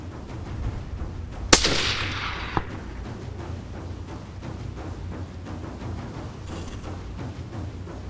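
A single loud hunting-rifle shot fired at a golden wildebeest cow on a South African plains game hunt cracks out sharply and rolls off into a fading echo, with a faint second report moments later over steady outdoor wind.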